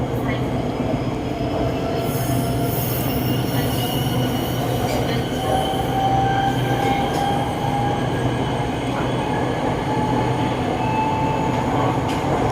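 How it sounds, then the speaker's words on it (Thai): Bangkok's Red Line electric commuter train hums and rolls steadily from inside as it accelerates, with rising motor whine and faint wheel squeals over continuous track rumble. "ตอนนี้ขบวนรถก็ เร่งความเร็วขึ้นนะครับ"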